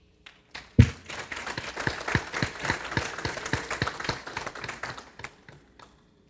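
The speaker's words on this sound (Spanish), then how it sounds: "Lo recibimos pues con un caluroso aplauso." A small audience at a criminal justice seminar gives welcoming applause, a sparse, close patter of distinct individual claps that starts with one sharp hit, builds, then thins out and stops.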